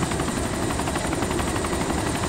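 Helicopter in the video game DayZ: a loud, steady rotor roar with rapid blade chop, close and continuous throughout, with no voices.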